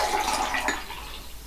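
Water from a bottle poured steadily onto instant snow polymer powder, a close, continuous splashing gush that eases off slightly toward the end.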